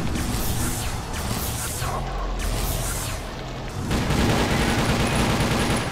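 Surge gun fire in the Timeshift shooter, sustained and loud, with dense bursts of energy-weapon shots running continuously over a noisy battle din.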